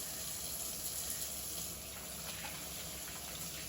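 Tap water runs steadily into a colander of asparagus, broccoli and cauliflower being washed, a soft, even rushing splash at low volume throughout.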